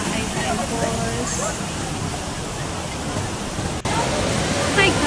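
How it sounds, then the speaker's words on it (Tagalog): Mahayhay Falls pours in a steady, loud wash of rushing water, a broad continuous roar with people's voices mixed faintly into it. "Ayan na nga itsura ng Mahayhay Falls."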